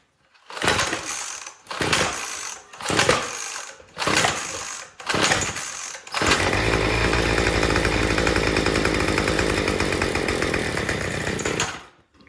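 A Troy-Bilt TB225 tiller engine on full choke is pulled several times with rhythmic rope-start bursts, then catches and runs loud and steady for about six seconds before cutting out.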